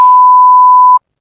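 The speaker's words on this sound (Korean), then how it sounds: "삐 소리와 함께 모니터의 곡선이 평평한 직선으로 변하는 순간" A heart monitor gives one continuous flatline tone, a loud pure beep held for about a second that then cuts off into silence.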